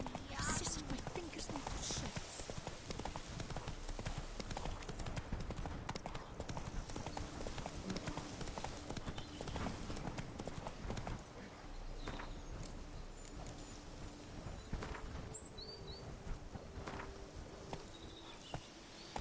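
Roach the horse gallops steadily in The Witcher 3, a fast, even run of hoof clip-clops under in-game ambience and speech, fairly quiet overall.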